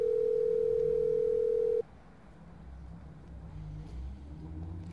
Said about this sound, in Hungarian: Kicsöng, és akkor hangposta.